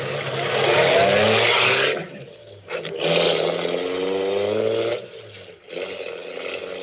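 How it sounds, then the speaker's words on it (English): A car driving in an old 1946 radio drama sound effect, a steady engine drone that rises and falls in long swells with brief dips between, loud and close, with no talk over it. "I drove back to the garage."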